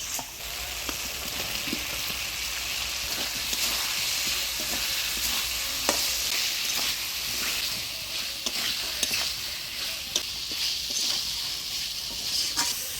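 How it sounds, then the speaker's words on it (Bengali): Fried new potatoes are stirred into a spice masala in a pan for Bengali aloo dum. A continuous sizzle runs throughout, with repeated scraping clicks from the stirring spoon. "আলু দিয়ে মশলার সাথে ভালো করে নাড়াচাড়া করে নিলাম।"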